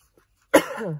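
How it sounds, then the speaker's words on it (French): A single sharp cough close to the microphone, followed by a short raspy exhale, after near silence. "vous allez m'entendre beaucoup tousser comme je suis malade"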